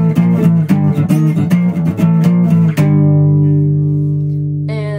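Guitar playing the opening of a song with power chords: a rapid run of rhythmic strums, then one loud chord left ringing and slowly fading, with a brief higher sound at the very end.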